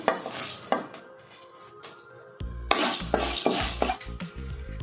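Chana dal and urad dal frying in hot oil in a pan, stirred with a metal spoon: busy sizzling with repeated scraping and clinking of utensil against the pan, fairly close and loud, no talking.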